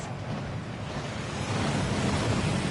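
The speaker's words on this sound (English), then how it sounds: "That waterfall washes away all enchantments." A waterfall rushing in the Hogwarts Legacy video game, a steady, dense roar that swells slightly and carries on without a break and without voices.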